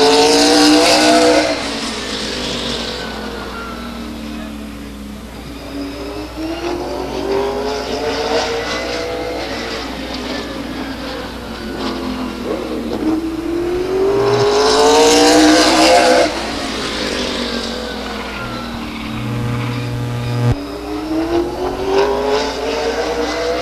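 A race car in SRL competition laps Stockton 99 Speedway, its engine rising and falling in pitch as it sweeps past twice, loud and close with a steady roar between passes and no talk.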